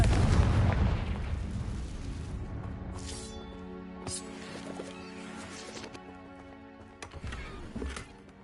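A booming fire-spell explosion in a wizard video game, loud at the start and fading into rumbling debris, with a few softer impacts and game sounds after.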